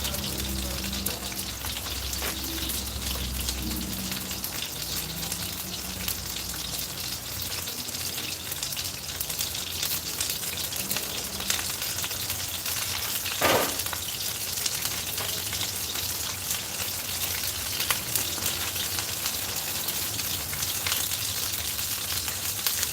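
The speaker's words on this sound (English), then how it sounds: "Get a nice sear on that." Food searing in a hot pan with no onions or garlic, a dense, loud, continuous sizzle and crackle that holds steady throughout, with no talking.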